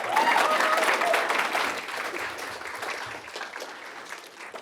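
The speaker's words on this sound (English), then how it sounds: "Clap, clap, clap." Audience applause at a school board meeting starts fairly loud and dense, then gradually thins and fades over a few seconds, with a few voices audible underneath.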